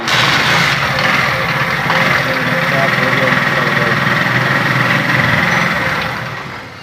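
A Honda CD70 motorcycle engine, kick-started after a repair, runs at a steady, loud, close-up idle with a continuous buzzing rumble that eases slightly at the end.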